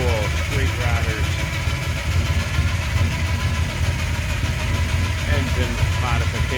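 A 454 V8 in a 1955 Chevrolet 210 Wagon street rod idles with a steady low rumble and the whine of aftermarket Jackson timing gears, continuous and close, while someone talks over it.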